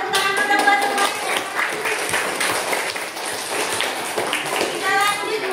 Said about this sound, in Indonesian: Tepuk tangan kita buat semuanya